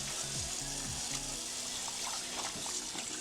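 Cold tap water runs steadily into a sink while dyed quilting fabric is rinsed, a continuous close splashing rush over a faint low hum.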